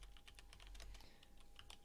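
Fingers type rapidly on a computer keyboard, a steady run of soft, close clicks and clacks with no voices over it.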